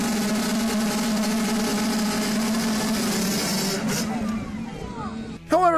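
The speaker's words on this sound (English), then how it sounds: "At a motocross event in Sweden, competitors revved their bikes to start the race." Motocross bikes at a race start in Sweden roar together in a loud, sustained engine drone with harmonic whine, easing slightly near the end before a sharp burst of rising revs.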